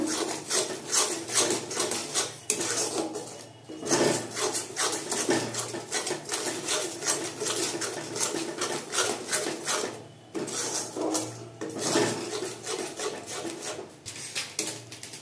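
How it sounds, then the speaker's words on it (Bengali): A spice masala with sugar, salt and green chilies for a paneer dish is stirred and fried in a pan, heard as repeated close, rhythmic scraping strokes of a spatula against the pan with brief pauses; no voices. "এবার মশলাটাকে ভালো করে কষিয়ে নেব"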